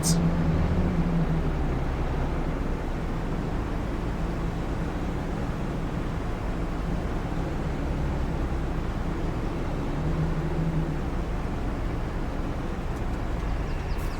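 A tractor engine idles in Farming Simulator 22 on the Zielonka map, a steady, even low rumble and broadband hum that holds constant without revving, fairly close and alone.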